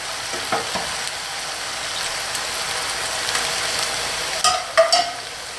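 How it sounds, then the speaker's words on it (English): Chicken paprikash stew simmering and sizzling in a pot, a steady close bubbling hiss with a few stirring scrapes and clinks toward the end, and no talk. "It's simmering now."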